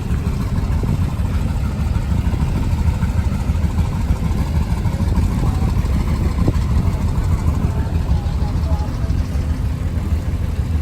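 A garden tractor engine idles at a steam show with a steady low chugging rumble, close by and constant, with faint background activity.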